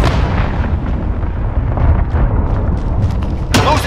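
A cruise missile strike in Call of Duty Modern Warfare lands as a loud, rumbling explosion that rolls on for several seconds, with crackling debris and a sharp final burst near the end.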